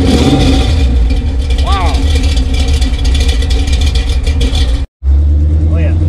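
A 1969 AMC Javelin SST engine rumbles and revs while people talk over it, the automatic car pulling away with a brief drop-out near the end.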